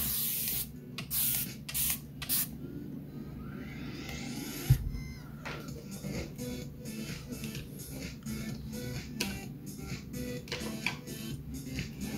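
A handheld spray bottle mists water onto a watercolor painting in a few quick bursts early on, followed by quieter rubbing and brushing sounds, close and fairly soft.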